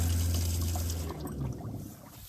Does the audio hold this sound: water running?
yes